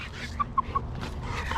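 A chicken on a chicken farm gives three quick, short clucks close by, evenly spaced within about a second, over a low background rumble.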